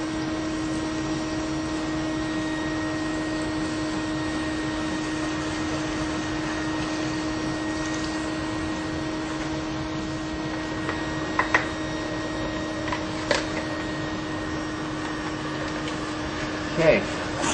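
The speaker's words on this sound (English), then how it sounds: "just let that vacuum pull that through" A vacuum drones steadily and evenly for a long stretch, pulling sanitizer through an air conditioner drain line, with a few brief clicks and knocks near the end.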